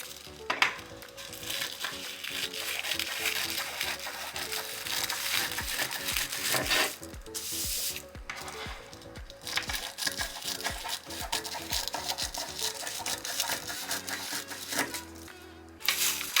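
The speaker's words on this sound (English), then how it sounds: "we're gonna cut off right down the seam at the bottom and the handles at the top" A plastic shopping bag is cut along its bottom seam and across its handles for crochet yarn, giving a steady close crinkling and rustling with small snipping bursts throughout and no talking.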